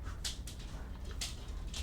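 Several dogs bark at an excited, uneven pace, sounding muffled and somewhat distant over a low rumbling background.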